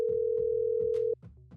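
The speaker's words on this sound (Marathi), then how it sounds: "दोन रिंग्स केल्या पण त्याने फोन काही रिसीव्ह केला नाही" A steady single-tone telephone ring signal sounds for about a second, then cuts off, with low rhythmic background thumps continuing underneath.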